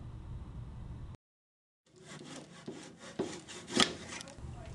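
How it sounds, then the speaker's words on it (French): Rhythmic rasping strokes of a back saw cutting wooden moulding in a mitre box, close and fairly loud, starting after a short silence. "À l'aide d'une boîte à onglets et d'une scie à dos, découpez la moulure."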